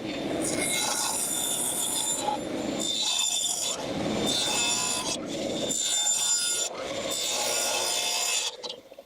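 A wooden board being cut to length for a Christmas advent chest, with several long rasping cutting passes separated by brief pauses, loud and close, with no talking.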